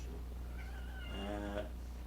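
A pet cat gives a drawn-out meow with a rising, wavering tone, clear and fairly close over a low steady background hum.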